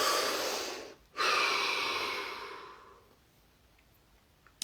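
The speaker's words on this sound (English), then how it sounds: "Deep breath." A long, deep breath during a meditation session: a loud, airy exhale, a brief pause, then another rush of breath that gradually fades into quiet.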